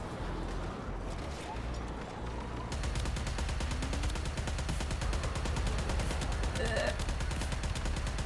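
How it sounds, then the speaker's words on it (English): Warframe video game gunfire: after a rumbling start, a dense, continuous stream of rapid shots fills the rest of the clip, loud and unbroken. "Let's try shooting the guys instead."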